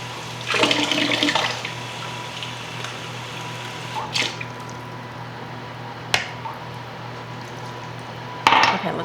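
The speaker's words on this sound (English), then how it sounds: "I'm gonna add some water." Water poured into a baking dish before it goes into the oven, with a gushing splash near the start followed by a quiet stretch and a few sharp clinks of the dish, close and fairly loud.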